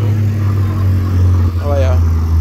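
A drag racing car engine at a Puerto Rico drag event idles loud and close with a deep, steady drone, while someone talks over it briefly.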